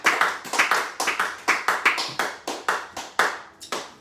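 Church congregation clapping together in praise: steady rhythmic hand claps, roughly two or three per second, fairly close and loud with no voices over them.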